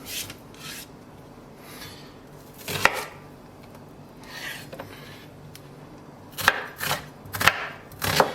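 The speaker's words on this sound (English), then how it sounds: "you want to chop the onion pretty finely" An onion is finely chopped on a board with a knife. Soft rasping cuts come first, then clusters of sharp, close thuds toward the end, with no talking.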